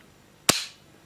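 A replica pistol fires after the trigger is pulled: one sharp, loud, close crack with a short ringing decay, surrounded by quiet.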